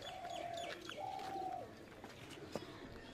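Pigeons coo softly nearby, two drawn-out murmuring calls followed by quieter rustling and a brief tap.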